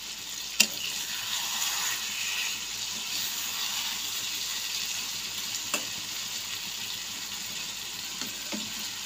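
Garam masala sizzling in hot oil for a Bengali oil-fried eggplant dish, a steady soft frying hiss throughout with a few brief sharp clinks, no talking.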